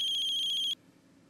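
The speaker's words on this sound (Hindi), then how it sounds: "तेरे फोन की घंटी बजी" A mobile phone ringtone rings in a household drama scene, a bright pulsing electronic tone repeating quickly before cutting off abruptly, followed by near silence and a brief soft knock.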